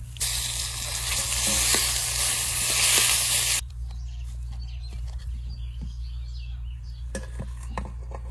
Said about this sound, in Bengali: শুটিগুলো একটু ভেজে নেব, বাটা শুটিটা, ঘি,